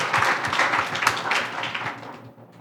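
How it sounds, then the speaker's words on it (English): A seated audience at a Father's Day panel discussion claps steadily and fairly loudly throughout, a dense patter of many hands that thins out toward the end. "you can clap for that one"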